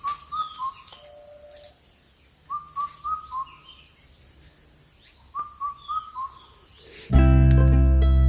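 Kafal pakko birds call in a Himalayan forest, with clear whistled phrases of three or four notes repeated three times at moderate distance and quiet gaps between. A loud blast of rumbling noise cuts in at the end.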